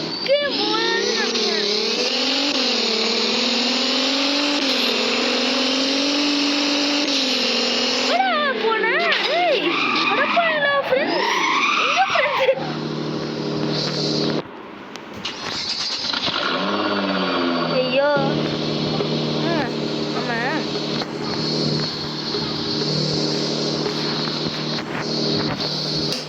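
Car engines revving and racing in the Roblox-style driving game Driving Empire, loud and continuous with shifting pitch, tire skids and surging acceleration, while a person talks over the game sound throughout.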